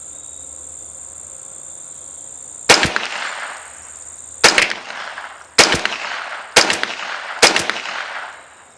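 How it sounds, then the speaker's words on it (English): Five rapid rifle gunshots fired at a target 100 yards away through a red-dot sight with magnifier: loud sharp cracks with ringing decay, irregularly spaced about a second apart, over a steady insect-like background whine. "First was 5 rapid shots from 100 yards, again at the body of the target."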